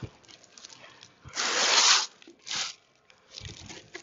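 Damp-proof membrane is cut and torn while capping stones are fitted on a parapet wall, giving several rough ripping and crinkling bursts, one long and louder, with quieter rustles between, close by and no speech.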